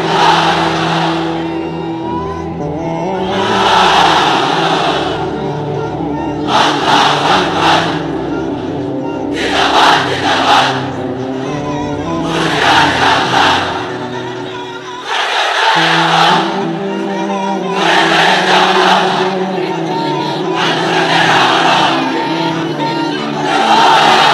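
Large crowd in a pandal at an Islamic religious gathering chanting takbir slogans in loud, rhythmic call-and-response bursts, repeated roughly every few seconds and filling the space with massed voices.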